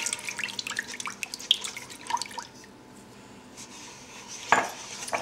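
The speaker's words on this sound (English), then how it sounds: "be careful you don't stir too fast and splash the milk everywhere" Milk is stirred in a pot for milk tart, with repeated light metallic scrapes and clinks of a utensil against the pot, then a pause and a few more taps.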